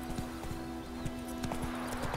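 Horse hooves in The Witcher 3 video game, a horse being called and approaching, giving a quick rhythmic clip-clop of hoofbeats over a steady tonal hum.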